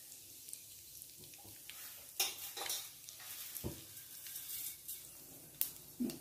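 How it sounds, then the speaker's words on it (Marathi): Mustard seeds crackle faintly in hot oil in a pan while raw mango rice is tempered. Scattered small pops and soft sizzling come with a few sharper clicks from the pan. "मोहरी चटचटले हे पा,"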